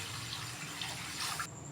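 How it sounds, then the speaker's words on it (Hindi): Water pours steadily into a kadhai (wok) in a home kitchen while raw mangoes are prepared for murabba, a continuous close rushing splash that stops abruptly near the end, with no talk. "इसमें हम पानी डाल देंगे।"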